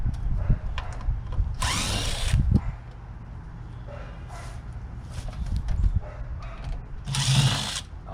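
A cordless power drill backs screws out of the metal shell of a curbside-scavenged microwave, with two loud whirring bursts separated by quieter clanking and handling noise close by.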